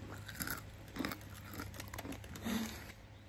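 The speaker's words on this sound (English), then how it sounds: "Listen to the crunch." Crisp, close biting and crunching of a vegan chocolate crunch snack, several bursts of crackly chewing in an irregular rhythm with no talking.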